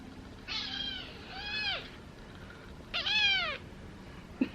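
A little kitten outdoors gives three plaintive meows, two drawn-out cries close together and another after a brief pause, fairly near over a soft background hum.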